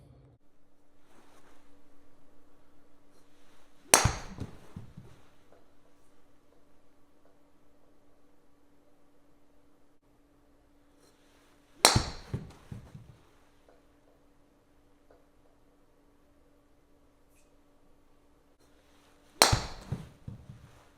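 A golf driver strikes a ball three times on a practice range, each a sharp isolated crack roughly eight seconds apart, near and loud against a quiet background.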